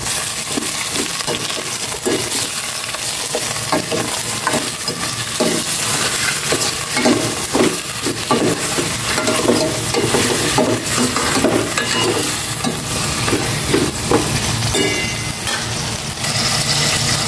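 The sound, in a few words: chicken wings frying and being stirred in a pan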